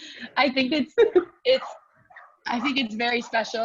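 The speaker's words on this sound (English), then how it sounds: "Sorry about my dogs." Dogs bark and whimper at home, short yips mixed in with a person talking continuously over them.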